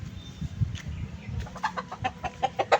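Chickens cluck in a series of short, sharp calls that quicken toward the end, over a low rumbling background close by.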